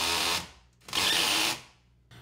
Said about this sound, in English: Before I go on and attach the remaining 5 drywall screws